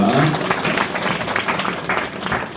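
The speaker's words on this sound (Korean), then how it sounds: "감사의 박수 드립니다" A church congregation gives thanks with applause after a prayer, a burst of many hands clapping that swells and then gradually thins out over a couple of seconds.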